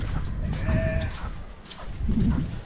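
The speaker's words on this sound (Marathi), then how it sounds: "गाय" A cow on a street in Pondicherry, South India, lets out a short, fairly close moo over outdoor background noise, followed by a brief, lower lowing sound.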